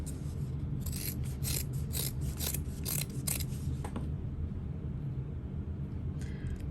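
Scissors trimming fabric for a parachute-style knapsack, cutting around a curve: a run of quick crisp snips close by over a low steady background hum, then the cutting stops.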